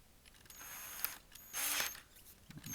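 A door stop is screwed into a wall with a few short, scratchy mechanical turns, each lasting about half a second, heard close and faint with no talking.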